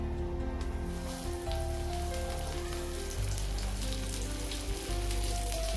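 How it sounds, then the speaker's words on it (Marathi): Marinated fish coated in rava, rice flour and spice mix frying in a pan, a steady crackling sizzle like light rain, close and continuous, with low hum and background rumble underneath. "आता मच्छी फिश फ्राय करायला आता स्टार्ट करणार."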